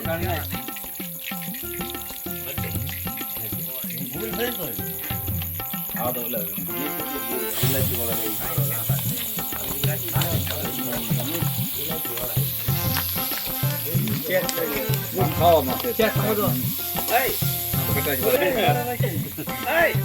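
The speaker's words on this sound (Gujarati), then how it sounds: "મરચા તળે છે" Green chilies fry in hot oil outdoors, a constant bubbling sizzle that runs under lively, near-continuous talk from several people.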